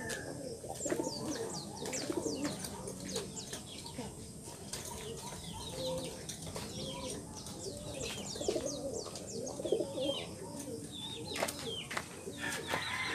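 Racing pigeons cooing and fluttering before a pigeon race in San Leonardo, a dense continuous chorus of coos and chirps with occasional wing flaps close by, steady throughout with no talking.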